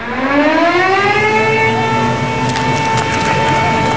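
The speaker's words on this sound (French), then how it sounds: "Il est 14 h quand retentissent les sirènes d'alarme en Israël." A loud wailing air raid siren in Israel holds a steady rising and falling tone, with several harmonics overlapping as more sirens sound together, continuous throughout.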